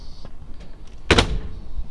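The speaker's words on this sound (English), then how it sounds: "Doors shut very nice." A single solid thunk of a 1940 Ford Standard Woody Wagon door shutting, close and brief, with faint rustling before and after.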